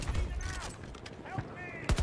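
Bursts of incoming gunfire in the shooter game Battlefield 2042, dense crackling shots thick at the start and again at the end, with a voice talking underneath.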